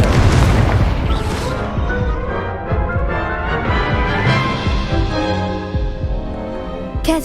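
Loud fiery spell blasts from the Incendio fire spell in Hogwarts Legacy, a dense roaring burst up front followed by sustained crackling, rumbling game effects and music, ending with a sharp impact.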